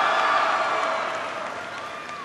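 A crowd cheering at an event on Barack Obama's American Jobs Act bus tour, a broad roar of voices and whoops that fades gradually, with a faint whistle near the end.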